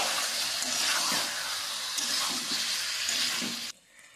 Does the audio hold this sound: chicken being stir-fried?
yes